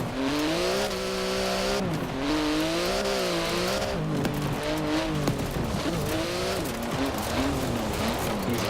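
Porsche 959 rally car in Forza Horizon 4 sliding across loose ground, its engine loud and close, revving up and down with repeated tire skids and no talk.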